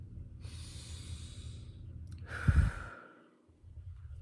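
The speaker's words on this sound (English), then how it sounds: "So take a deep breath." A single deep breath, drawn in slowly and then let out in a long, audible sigh, close and quiet with no talking.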